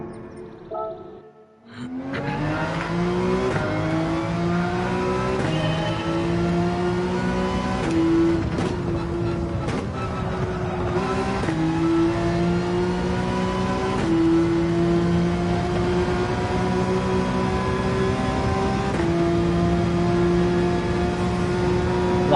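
A BMW race car in Gran Turismo 7 laps the track, its engine droning steadily and loudly close by, climbing in pitch through gear changes and repeated revving surges, with no talk over it.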